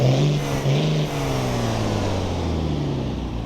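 A Dodge RAM 3500 pickup's engine starts and idles up close, with a steady, loud, low rumble that dips briefly near the start, then settles into an even hum.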